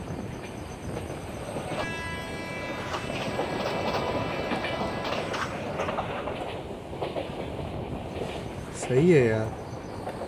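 A Jan Shatabdi Express on a Kerala route in a train simulator game: a continuous rolling rumble with faint clatter and a brief horn blast near the end, while someone talks briefly over it.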